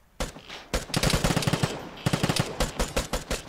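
Rapid automatic gunfire in the survival shooter Vigor, loud bursts of close shots with short pauses between volleys, no talking.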